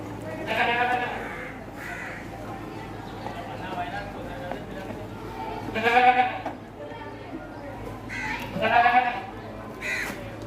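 Punjab Ablak goats bleating in a livestock market, several loud wavering bleats rising over a steady background hum and murmur, with a pause between calls.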